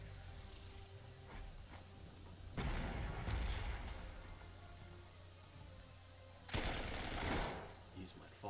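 Artillery fire in the wartime strategy game Panzer Corps 2: two heavy, rumbling booms with long noisy tails, spaced several seconds apart, over a low steady background while someone talks.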